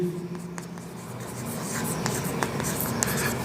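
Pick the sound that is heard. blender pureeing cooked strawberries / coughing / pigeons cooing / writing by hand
writing by hand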